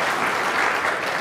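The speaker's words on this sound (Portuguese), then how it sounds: "Pode aplaudir a mão, aplaudir pelas mulheres, irmão?" Church congregation applauding together during a sermon, a dense, steady clapping that fills the whole moment without pause or voices over it.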